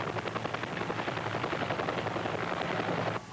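A Canadian Forces military helicopter in airmobile operations gives off a loud, steady rotor chop with dense turbine roar, continuous and close throughout.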